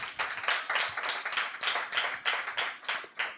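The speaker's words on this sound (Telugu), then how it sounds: "గట్టిగా చప్పట్లు." A church congregation at a Father's Day service claps loudly in a rhythmic, roughly unison beat that swells in regular pulses.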